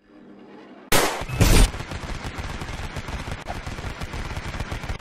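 Toy battle gunfire sound effects burst out loud, with a dense crackle of rapid shots running continuously after an initial heavy blast.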